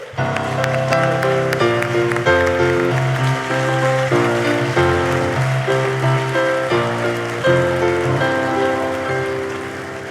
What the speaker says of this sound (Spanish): Recibimos con un fortísimo aplauso a Ángel Luis González